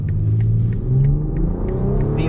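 A 2024 BMW X5 xDrive 40i on 22-inch wheels accelerates on the road, its engine rising in a strong, close, steady revving drone for a couple of seconds.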